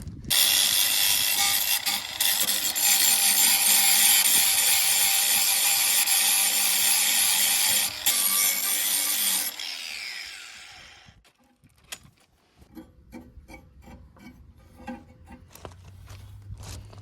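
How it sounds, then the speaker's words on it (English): A power grinder works the worn blades of a cheap ride-on mower, a loud, steady, close whine of grinding for about nine seconds that then winds down into quiet clinks and metallic handling noises. "So, just going to give them a grind over just here like that."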